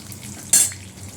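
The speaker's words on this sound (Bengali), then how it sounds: "এই মেথি ফোড়ন দিয়ে দিলাম।" Fenugreek seeds dropped into hot oil give a sudden hissing sizzle that flares up loudly and then fades over a steady background frying noise.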